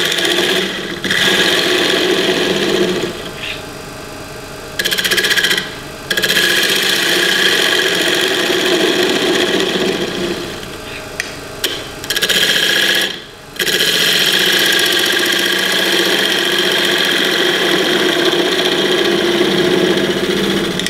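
A spindle gouge cuts wood on a lathe while turning an off-center pendant, a loud sustained scraping hiss over the motor's hum, broken by a few brief pauses as the tool lifts away.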